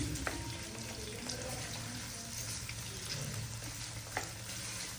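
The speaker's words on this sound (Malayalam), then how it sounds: "ഇത് നന്നായി ഒന്ന് ഇളക്കി കൊടുത്ത സവാള ഗിരിഗിരി" Chopped onions sizzling and frying in oil in a pan while being stirred, a steady hiss with occasional scraping clicks, close and continuous throughout, no talking.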